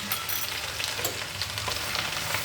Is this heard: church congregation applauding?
no